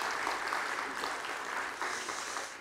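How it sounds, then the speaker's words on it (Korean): A church congregation at a Sunday third worship service at Mokdong Jeil Church gives encouraging applause, a steady, dense patter of many hands clapping together that eases slightly toward the end. "다시 한번 여러분 격려의 박수 더 부탁드립니다"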